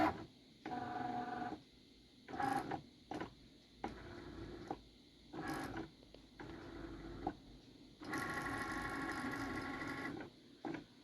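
A Cricut cutting machine whirs and clicks through short bursts of motor movement while scanning registration marks before a cut, with a longer, louder run near the end; no voices.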